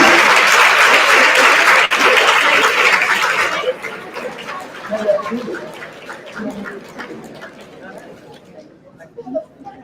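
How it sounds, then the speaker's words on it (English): Loud audience applause at a DevFest tech community event fades after a few seconds into crowd chatter and scattered voices. "Guys, applause should not stop"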